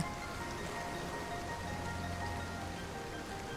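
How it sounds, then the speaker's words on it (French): Steady, dense downpour of heavy rain, a continuous hissing wash of drops with no voices, loud and constant throughout. "une pluie diluvienne déferla sur l'île"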